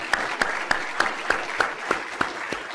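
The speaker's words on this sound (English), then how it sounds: "Let's give them a round of applause." Rhythmic clapping at a leadership forum, with sharp evenly spaced claps about every third of a second over a steady background of audience noise, like a group clapping in unison.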